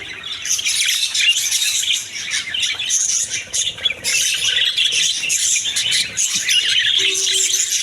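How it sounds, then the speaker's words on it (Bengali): Budgerigars in a bird shop chirp and squawk continuously, a dense, loud chorus of high tweets from many birds with no pauses. "এটাও বাজরিকা পাখি ক্লাসিক বাজরিকা অনেক সুন্দর কালার কম্বিনেশন"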